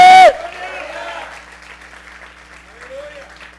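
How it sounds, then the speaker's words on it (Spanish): Church congregation clapping for the Lord: a burst of many hands applauding, fairly close and loud at first, then trailing off into scattered claps and room murmur, with a preacher's voice briefly at the start. "Dele palmas al Señor, a su nombre."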